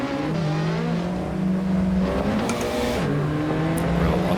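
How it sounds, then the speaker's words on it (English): A video game car engine drones steadily, its pitch stepping up and down as it revs through gears, loud and continuous with no talking. "I don't love how this car sounds"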